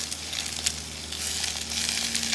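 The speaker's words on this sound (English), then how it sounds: "And we'll let them sear in there for just a minute." Bok choy leaves fresh from the garden sear in hot oil, giving a steady, loud, close hiss with a few brief crackles and no talking.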